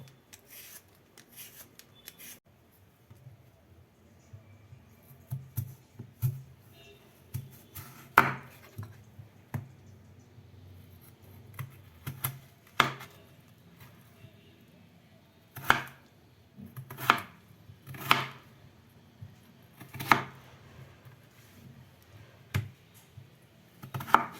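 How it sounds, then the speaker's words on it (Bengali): A kitchen knife chops kohlrabi and dices peeled potatoes on a board for a Bengali kohlrabi-prawn curry, giving sparse, irregular sharp taps that come closer together later, over faint background hum, with no talking. "এবার আলুর খোসা ছাড়িয়ে আলুটাকে ডুমো ডুমো করে কেটে নেব।"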